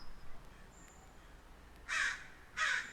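A crow caws twice outdoors, two harsh calls close together near the end, clear over quiet background hiss.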